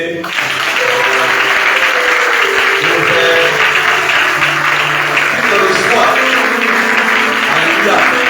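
A church congregation applauding Reverend Morgane, with dense, sustained clapping that swells after a brief start and holds steady, with voices mixed in underneath.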